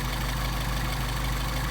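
A Mercedes 190SL engine fitted with Solex carburetors idles steadily in cold weather, its close, continuous low rumble holding an even tone with no talk over it.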